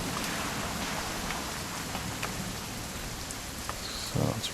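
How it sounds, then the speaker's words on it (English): Steady rain in the video game What Remains of Edith Finch, a constant hiss of drops on surfaces with a few faint taps and a brief louder knock near the end. "So it's raining."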